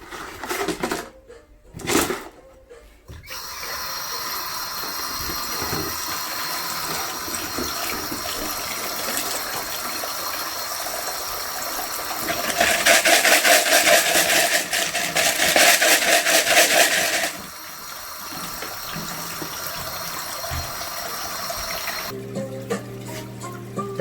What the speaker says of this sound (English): important to rinse your plants, rinse your gravel.